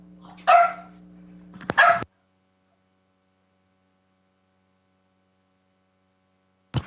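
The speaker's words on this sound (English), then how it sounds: "My dogs. I think they want to go outside" Pet dogs indoors wanting to go outside give two sharp, close barks over a steady electrical hum, then silence until one more clipped bark at the very end.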